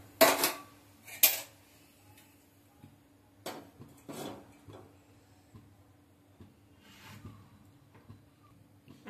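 A metal pan clanks down onto a lit gas stove in a home kitchen where an Andhra fish curry is being made: a couple of sharp metallic knocks, followed by lighter scattered taps and clinks over a quiet background.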